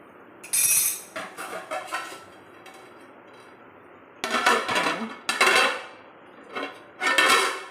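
A metal lid is set onto a cooking pot while making spicy kaltappa, giving a series of close metallic clanks and rattles in separate bursts, with quieter shuffling between them.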